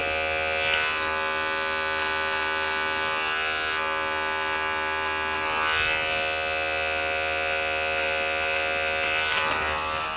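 An Andis hair clipper trims a beard with a steady, loud electric buzz, running continuously and close up with slight shifts in tone as the blade moves, with no speech over it.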